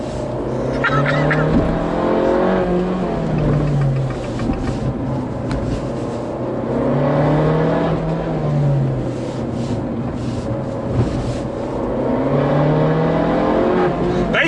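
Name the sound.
Abarth 695 Anniversario car engine accelerating on track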